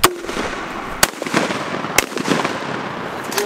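An AR-15 rifle fires outdoors at exploding backyard targets, three sharp, loud cracks spaced about a second apart, each followed by a short ringing tail, over a faint background hiss.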